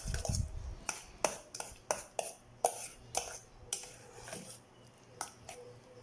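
A utensil mixes tofu sisig sauce ingredients in a bowl, making a dozen or so sharp clinks and taps in an uneven rhythm, close and fairly quiet.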